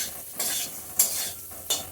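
Taro and fried pumpkin pieces sizzle in a pan of fried spices, with steady close frying hiss and three sharp scraping stirs of a spoon.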